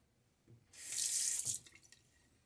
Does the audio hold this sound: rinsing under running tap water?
yes